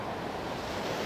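Ocean waves wash steadily around a rock near the shore, a continuous broad rushing roar with some wind noise and no distinct breaks.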